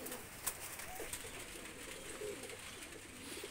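Golden and teddy pigeons coo faintly amid background noise, with a few soft, low calls scattered through the stretch and a brief sharper sound near the start.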